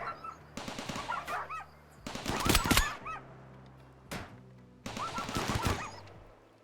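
Bursts of automatic rifle fire in the colony-sim game Rimworld, rapid repeated cracks in three separate volleys with short gaps between them, loud and close, with no talking.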